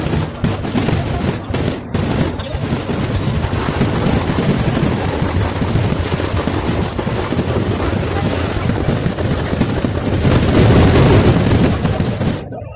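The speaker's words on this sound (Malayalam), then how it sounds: "പൂരത്തിന് ശേഷം ചെറിയൊരു വെടിക്കെട്ടൊക്കെ ഉണ്ടായിരുന്നു കേട്ടോ" Fireworks crackle and bang in dense, continuous volleys after a pooram temple festival in Kerala, the bursts rapid and overlapping for the full stretch, loudest near the end, with a crowd murmuring underneath.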